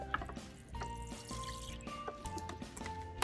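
Water splashing and dripping softly as watercress sprigs are set in water to soak, with small trickles and clinks close by under a faint steady background hum.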